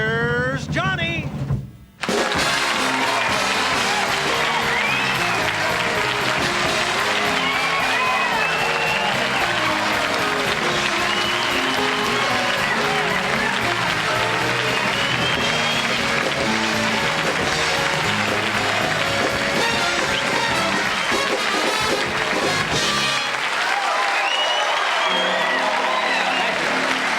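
A television studio audience on a late-night talk show in 1976 breaks into loud, sustained applause that fills about twenty seconds, with voices mixed in, before dropping away near the end.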